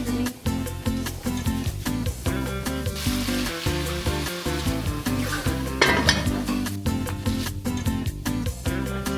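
Green beans scorching and sizzling in a pan on a home stove, with steady frying crackle mixed with clattering pan and utensil knocks and stirring throughout, fairly close and loud.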